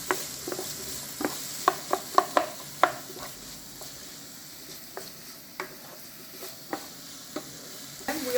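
Thick-chopped onions sizzle steadily in a pan while a utensil scrapes and taps through them in uneven strokes, a cluster of sharper knocks early on, with no talk.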